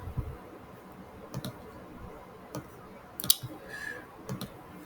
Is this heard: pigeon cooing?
no